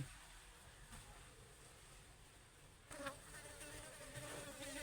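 Black soldier flies buzz faintly and continuously around a bucket bin of BSF larvae, a low insect drone against steady background hiss that grows slightly louder midway.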